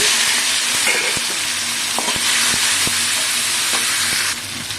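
Chopped tomatoes and green chilies sizzle in hot ghee with whole cumin seeds, a loud, close, continuous frying hiss broken by a series of sharp spatula clicks against the pan.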